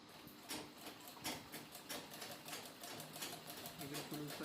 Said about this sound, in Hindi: ये बिल्कुल ऊपर तक ऐसे सिलाई लगा लेनी है।